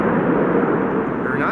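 Boeing 787 landing at Amsterdam Schiphol with thrust reversers deployed, a loud, steady broadband roar of engines filling the short span with no break.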